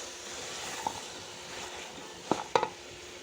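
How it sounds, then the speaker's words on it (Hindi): Potato and cauliflower fry in masala in a pan with a soft, steady sizzle, and a few faint clinks of stirring come near the end, all quiet and close with no talking. "अब हम भून लेंगे अपनी गोभी को इस तरह और मसाले में तैयार हो जाएगी आलू गोभी"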